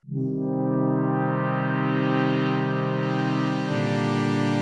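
Novation Summit synthesizer playing a chord in poly mode with heavy distortion, a loud, gritty sustained tone that swells in and shifts pitch near the end, played alone.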